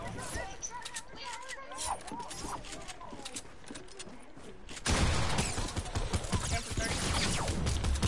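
Battlefield video game gunfire crackles in rapid bursts, swelling louder and denser in the second half, while players talk excitedly over it.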